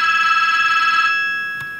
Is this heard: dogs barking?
no